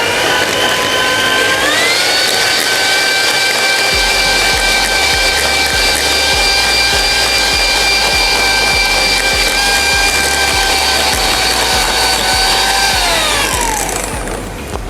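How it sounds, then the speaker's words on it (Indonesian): An electric mixer blends a taro and purple sweet potato cheesecake mixture. Its loud, close motor whine rises in pitch, holds steady for several seconds, then winds down, with no voices over it. "Kemudian ini langsung aku mixer."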